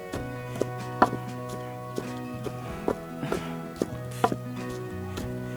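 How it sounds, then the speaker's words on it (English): Spiritual soap ingredients, including leaves, are pounded together to mix them: a steady series of dull, close thuds at an uneven walking pace, over a continuous tonal background hum. "I'm going to mix it by pounding it together."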